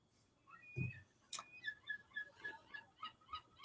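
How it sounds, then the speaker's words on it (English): Gulls calling at a beach, a run of regular honking cries repeating about every quarter second, fairly faint and distant against quiet background. "I hear the seagulls going."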